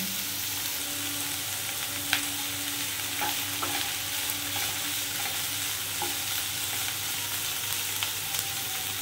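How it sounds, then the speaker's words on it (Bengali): Chicken stew ingredients fry gently in a pan with a steady, close sizzle that lasts throughout. Occasional small clinks and stirring scrapes sound over the sizzle, and there is no talking. "মিনিট 2-3 ধরে আমি হালকা করে একটু এটা ভেজে নেব।"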